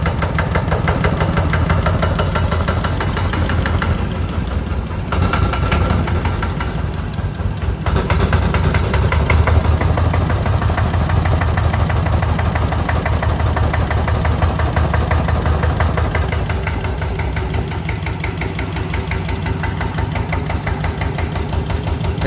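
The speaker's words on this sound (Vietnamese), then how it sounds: "Ồ, cái máy gắt rồi." A Kubota RT single-cylinder engine runs hard at a steady, loud, close roar with a rough knocking pulse, holding without letup for the whole stretch.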